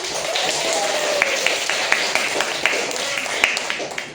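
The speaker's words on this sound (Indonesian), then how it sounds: "Hebat, luar biasa, tepuk tangan untuk kita." Classroom students clapping their hands, a busy patter of claps with a few sharper ones standing out, close and lively, with some murmuring voices underneath.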